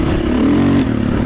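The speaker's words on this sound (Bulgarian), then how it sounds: "Невероятен звук има 4 тактове." Four-stroke enduro motorcycle engine running loud and close, a steady throaty drone with a slight swell in revs partway through and no talk over it.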